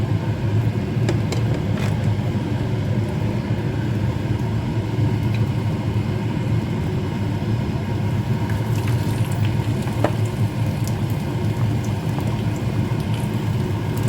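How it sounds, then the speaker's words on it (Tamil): Long beans fry in hot oil for a Jaffna-style curry, making a continuous, even crackling sizzle with scattered pops over a low rumble. "எண்ணெய் சூடாயிட்டுது நான் பைத்தங்காய் போட போகிறேன்"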